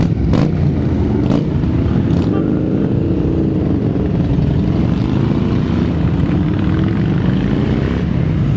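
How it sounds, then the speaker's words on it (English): A loud motorcycle escort rides past for a veterans' event, a dense, continuous engine roar with rising and falling tones as the bikes pass close by. "This is the motorcycle escort."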